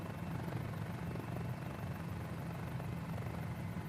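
A Mini-500 helicopter in flight, its engine and rotor making a steady, loud drone with a low rhythmic throb that runs unbroken from start to end.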